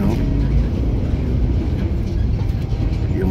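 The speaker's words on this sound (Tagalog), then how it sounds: "yung bus nag-ingay. Malaki kasi." Large bus rumbling through city traffic in Ho Chi Minh City, a loud, close, continuous low engine roar with road noise and no talk.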